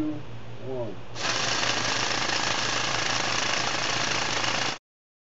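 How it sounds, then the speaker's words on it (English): A NASA JPL self-contained microspine anchor's percussive drill cores into vesicular basalt rock in an inverted configuration, starting abruptly after a brief lead-in with a short voice, then hammering as a loud, dense, continuous rattle before cutting off. "percussive drill is shown coring in an inverted configuration into a vesicular basalt rock"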